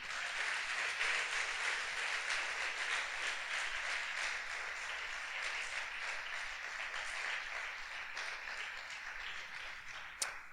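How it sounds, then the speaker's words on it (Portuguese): A church congregation applauding together, a sustained wash of clapping at moderate distance that holds steady throughout, with no speech over it. "Quem crê nisso, aplauda ele por isso."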